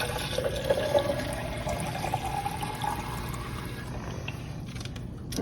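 Water poured off tomato seeds in a container during rinsing, a steady trickling and splashing that runs close and continuous for several seconds with no talking.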